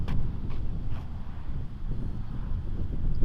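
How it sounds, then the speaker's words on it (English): Steady wind of about 17 miles per hour, gusting to 23, buffets the microphone in a continuous low rumble, rising and falling slightly in gusts throughout. "We had 17-mile-an-hour winds today, gusting to about 23."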